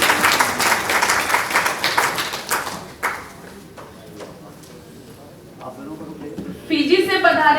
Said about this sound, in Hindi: उनके साथ देने के लिए जोरदार ताली बजाइए